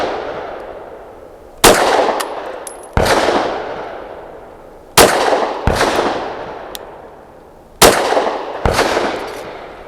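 A SAR 9C Gen 3 pistol fires Winchester Silvertip 115 grain rounds: seven loud, sharp shots in uneven pairs and singles, each followed by a ringing outdoor decay.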